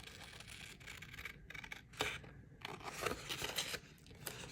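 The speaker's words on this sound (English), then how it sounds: "I'm gonna go ahead and cut." Big scissors cut through a sticker in a quiet room, giving several soft, crisp snips and paper rustles, a couple of them slightly louder.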